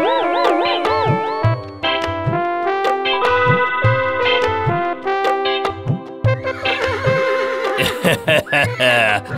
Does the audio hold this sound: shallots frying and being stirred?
no